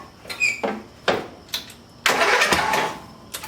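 A riding mower's small engine, just sprayed with carburetor cleaner, cranks and catches: short bursts of turning over, then a sustained louder run close by, alone with no talk.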